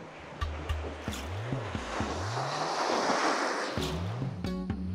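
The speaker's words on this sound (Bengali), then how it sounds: "চলে এসেছি একদম মন্দারমণির সমুদ্রের সামনে।" Surf at Mandarmani beach swells into a broad, steady wash of breaking waves, with wind buffeting the microphone and an engine-like hum underneath.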